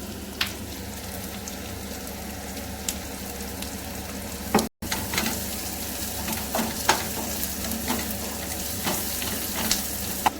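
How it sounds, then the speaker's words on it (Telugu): Crushed garlic frying in hot oil with curry leaves in a pan, a continuous close sizzle with sharp spatters and occasional stirring clatter, one brief dropout midway. "దంచి పెట్టుకున్న వెల్లిపాయలు వేసుకున్నాం"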